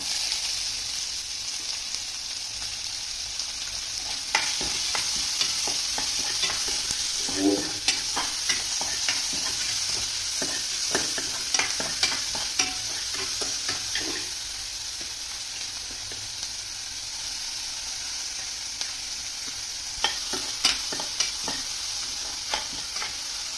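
Crushed garlic and onion fry in hot oil in a pan for homemade masala okra, giving a steady close sizzle broken by scattered clicks and scrapes of stirring, with no voices.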